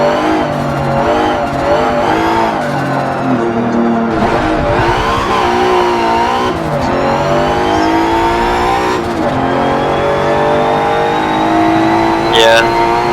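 A race car engine in a racing video game, a car upgraded from D class, revs and shifts through rising and falling tones with tire squeal, while people talk over it throughout.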